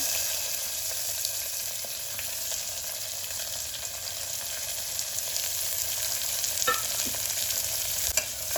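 Onion and tomato sautéing with cumin, curry leaves and coriander in a pan, a continuous even sizzle with soft stirring scrapes and a couple of brief clinks near the end.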